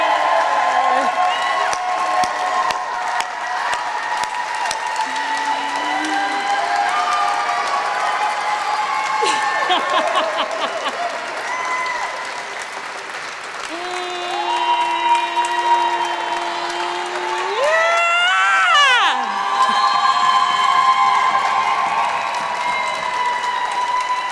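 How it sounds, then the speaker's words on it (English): An audience at a poet laureate swearing-in ceremony applauds and cheers, with loud sustained clapping, whoops and raised voices filling the room. Speech carries over the crowd noise. "Clap it up for yourselves."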